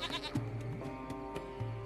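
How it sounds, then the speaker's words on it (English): A goat bleats in a video game, a few short wavering cries close up, with soft game ambience underneath. "It's a goat."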